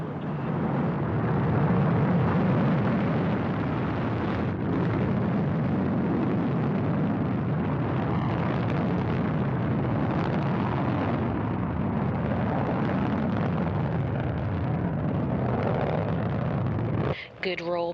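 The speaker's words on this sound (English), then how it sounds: "Liftoff of Progress 82, the next vehicle in the supply chain to the International Space Station" Progress 82 cargo spacecraft lifting off from Baikonur: a loud, sustained broadband rocket roar rumbles steadily throughout, with a voice announcing over it, ending in a brief dropout.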